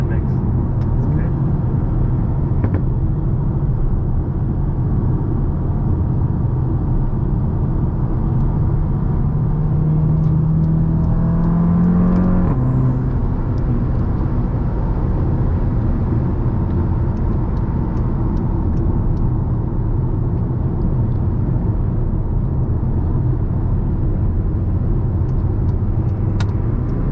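The engine of a tuned 290 kW Volkswagen Mk7 GTI drones steadily from inside the cabin during a drive, a loud continuous rumble with one brief rising rev near the middle, and people talk over it.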